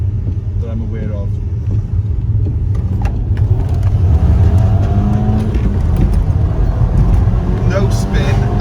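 A crashed Audi Quattro accelerates hard out of a corner, its engine note a loud, sustained low rumble that builds steadily, close to the microphone and mixed with road and wind noise.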